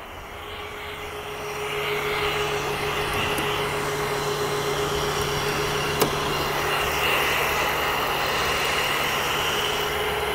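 Cooling fans on a supercharged 2014 Ford Raptor's heat exchanger give a loud, steady whooshing drone with a faint tonal hum, holding level throughout and heard alone.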